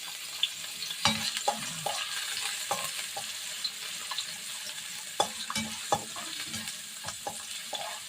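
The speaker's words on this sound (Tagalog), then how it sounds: "So, igigisa na natin yung bawang guys" Garlic and ginger sauté in a pan, a continuous soft hiss of frying with occasional clanks and scrapes of a spatula stirring, close but moderately quiet.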